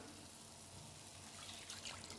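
A cup of milk pours steadily into a pan for paneer butter masala, a quiet, continuous liquid trickle heard up close.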